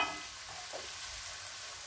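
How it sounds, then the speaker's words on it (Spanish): Minced meat and pepper hitting a hot pan for macaroni with meat and vegetables, a steady loud sizzle and frying hiss with a brief stirring scrape, close and alone without talk. "ahora le voy a poner la carne picada y le voy a poner la pimienta"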